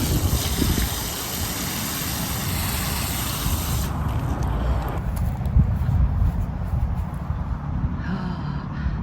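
Water sprays steadily from a hose onto newly planted sedum succulents in a garden, a continuous loud hiss that shifts and thins partway through, then splashes more softly toward the end.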